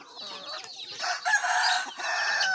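Chickens cluck and a rooster-like call rises in a busy, continuous burst of fowl vocalizations, fairly close, with the calls layered and sustained across the stretch.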